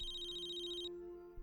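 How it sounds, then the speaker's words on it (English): A phone rings in the game Tales of the Neon Sea, a steady electronic tone that trills briefly and stops, quiet and alone with no voices. "Phone ringing."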